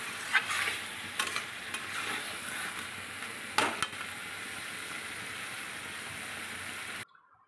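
Chicken is stir-fried (kosha) in oil in a pan, a soft, steady sizzle broken by several sharp scrapes and clinks of a spatula, then cutting off abruptly near the end.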